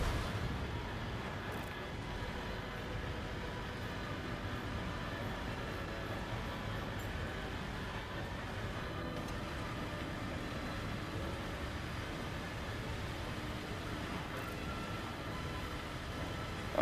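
A train runs along a railway track in The Crew video game, producing a continuous, even rumble and clatter of rail noise that stays steady throughout and plays without any talking.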